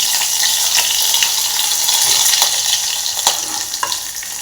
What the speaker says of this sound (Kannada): ಈಗ ಎಣ್ಣೆ ಕಾಯ್ದು ಸಾಸಿವೆ ಜೀರಿಗೆ ಹಾಕ್ತಾಯಿದ್ದೀನಿ